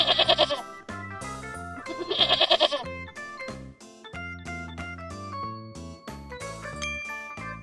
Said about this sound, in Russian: Коза.